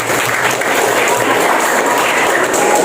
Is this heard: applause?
yes